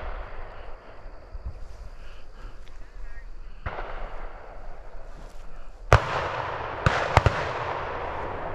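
Shotguns fire at pheasants on a high-bird farm shoot, with several sharp, loud reports near the end, one followed quickly by another, over a quiet outdoor background.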